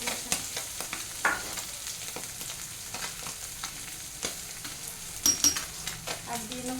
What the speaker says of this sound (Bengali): একটু কালো জিরে ফোড়ন, আর দিয়ে দেবো পেঁয়াজ কুচি।